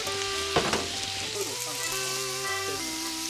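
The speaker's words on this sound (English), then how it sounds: "So now I'm going to cook the morels, and a trick I learned from you that I really like is to use a little bit of butter and a little bit of olive oil." Morels frying in butter and olive oil on moderate heat hiss and crackle steadily up close, with a brief scrape of stirring early on and a faint hum beneath.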